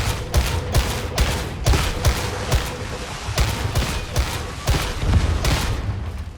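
Rapid gunfire from the grimdark shooter game Warhammer 40,000: Darktide, a sharpshooter's steady run of about fifteen loud booming shots at an even rhythm, with no voices over it.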